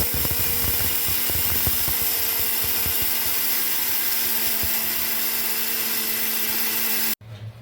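A mixer grinder grinds ration rice for puttu, a loud, steady motor whir with a hard rattling texture. It runs continuously for about seven seconds, then cuts off abruptly.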